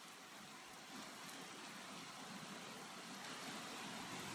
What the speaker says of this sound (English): There's something about that rain sound, though.